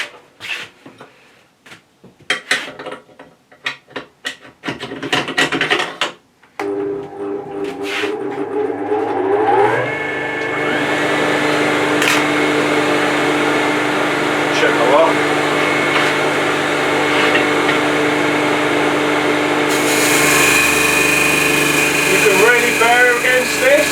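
A heavy-duty DS300 sanding machine fitted with 80 grit paper spins up and runs, a loud steady roar with a rising whine that settles into a continuous drone, after some short clattering bumps at the start.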